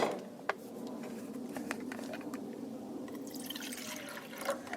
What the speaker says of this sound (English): So let's go ahead and get some water in this FR8.